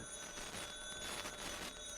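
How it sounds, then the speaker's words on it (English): A telephone rings in an old-time radio comedy drama, a bright electric ringing that fills the whole moment at steady loudness with no voices over it. "waiting anxiously for the phone to ring"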